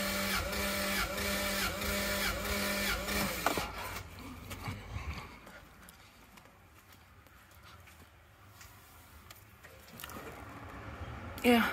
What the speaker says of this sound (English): So let's crank it over for number 4.